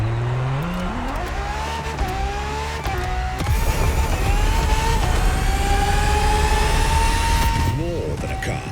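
A Ferrari FXX K racing in The Crew Motorfest, its engine revving up through rising gear shifts into a loud sustained high-pitched wail, with a brief tire squeal near the end while a voice narrates over it.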